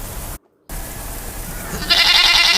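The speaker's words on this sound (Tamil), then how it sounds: "இது ஆடு கத்தும் சத்தம்." A goat bleats over steady broadband noise after a brief dropout, a loud, wavering, buzzy cry near the end that sounds close, with no voices.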